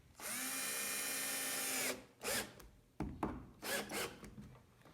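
A power drill drives screws into a Greenworks 40V lawn mower during a repair, giving one long steady whirring run, then several short bursts as the screw seats.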